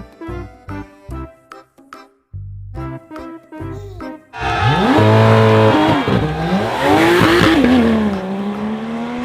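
A race car roars loudly as it accelerates, its engine pitch sweeping up and down with a squeal of tires, after a stretch of short musical notes.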